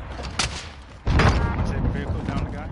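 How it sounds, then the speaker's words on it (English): A rocket launches in the Call of Duty: Warzone battle royale shooter, a sudden loud close blast with a roaring rumble that lingers for over a second under a player's voice. "Firing rocket!"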